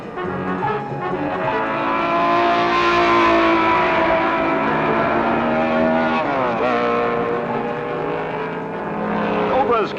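Ferrari race cars at speed on the Sebring circuit in 1964, producing loud, sustained engine howls with rising and falling pitch as they pass, overlaid by a commentator's voice throughout.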